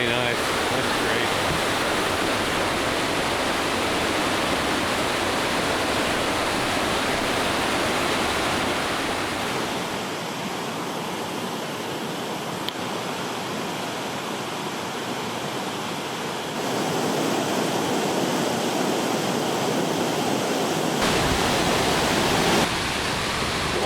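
Rushing cold mountain river water on the Tour du Mont Blanc trail in late June, a loud steady broadband roar close by that continues for the whole stretch, with no talking over it.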